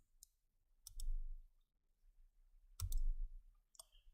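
Computer mouse clicks, a few close, sharp clicks in two small clusters with quiet gaps between them, heard alone with no speech.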